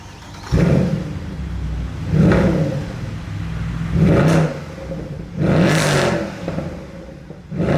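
A 6.2-litre AMG V8 revs repeatedly, four deep throaty blips rising and falling at a steady rhythm, loud and close.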